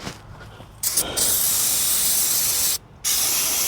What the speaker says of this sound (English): I can go ahead and spray this. With the brake parts cleaner.